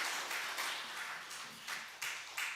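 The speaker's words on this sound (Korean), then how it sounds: "우리 힘내시라고 격려의 박수 하겠습니다" Church congregation giving a short round of encouraging applause for two newly divided church districts, faint and somewhat distant, clapping swelling in a few bursts.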